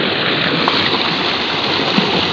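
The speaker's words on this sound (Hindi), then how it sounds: "ये देखें, ये पानी यहाँ से आ रहा है और ये इस एक बड़े खाड़े के अंदर आ रहा है" Tubewell water pours from a motor-driven pipe into a large pit feeding a field irrigation channel, a loud, steady, close rushing and splashing with no voices.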